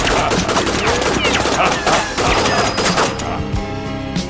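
Rapid bursts of automatic gunfire and single shots crackle nonstop as soldiers open fire in a video game, loud and dense, with some shouting mixed in.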